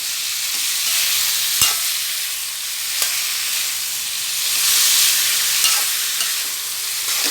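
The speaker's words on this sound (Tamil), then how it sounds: "வடிகட்டின பரங்காயை போட்டு ஒரு கலரி கலரிட்டு நாட்டு சர்க்கரையை போட்டிருக்கேன்" Strained pumpkin and palm jaggery stirred and sizzling in a pan, a steady close hiss of frying broken by a few sharp spoon scrapes against the metal.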